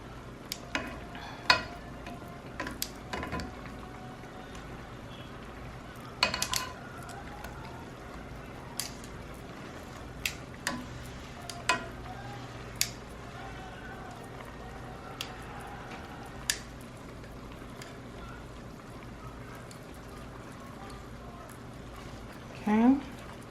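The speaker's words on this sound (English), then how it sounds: "We're gonna let this simmer for about another 5 minutes." Food simmering in a pan: a faint, steady bubbling sizzle, with occasional clicks and scrapes from stirring spaced through it.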